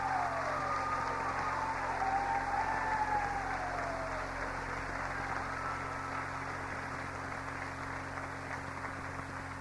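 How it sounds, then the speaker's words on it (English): An audience at an honors event for student leaders claps for a choir supporter: a continuous, fairly even wash of applause that fades slightly toward the end. "ask that you would give him a hand clap for support of the choir"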